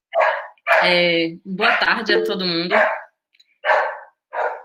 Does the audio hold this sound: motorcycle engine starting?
no